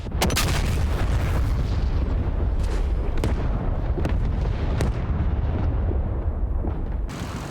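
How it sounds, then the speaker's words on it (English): Heavy artillery booms roll through a military video game battle, a dense continuous rumble punctuated by several sharp, loud blasts spread across the stretch. "Copy, we're engaging the artillery."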